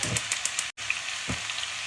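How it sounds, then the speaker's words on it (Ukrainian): Loud, steady sizzling of potatoes frying in a hot pan, a continuous crackling hiss with a brief gap partway through. "Чуєте, як зашкварчила? Оце так повинно бути."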